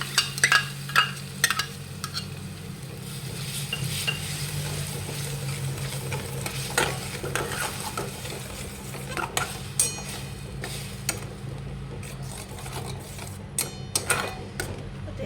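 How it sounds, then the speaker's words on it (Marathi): Tomato puree and chicken gravy for tandoori masala frying in a pan while being stirred: steady soft sizzling with repeated scraping and clinking of the spoon against the pan throughout. "टोमॅटो पुरी ते आपल्याला छान दोघं मिक्स करून फ्राय होऊ द्यायचं आहे"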